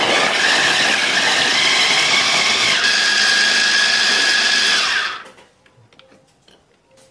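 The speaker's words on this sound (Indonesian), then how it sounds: "Untuk bawang merah dan juga cabenya kita giling dulu." A grinder crushes shallots and chili peppers for sambal with a loud, steady, close whir that runs about five seconds, then cuts off abruptly and leaves near silence.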